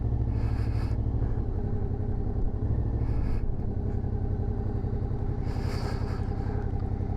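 A motorcycle ridden along a coastal road near Saint-Nazaire gives a steady, close engine rumble with a constant drone throughout, and bursts of wind or hiss come and go.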